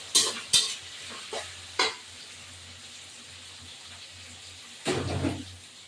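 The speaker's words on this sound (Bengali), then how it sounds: "পেঁয়াজ আর রসুন ভাজবো।" Onion and garlic fry in a pan with a soft sizzle, broken by several sharp stirring scrapes and knocks early on and a longer rustling stir near the end.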